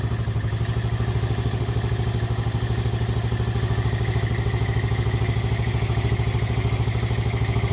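A BMX 110 four-wheeler engine, just revived and started with the choke pulled out, idles steadily and loudly up close with a continuous low mechanical chug and a faint clatter throughout.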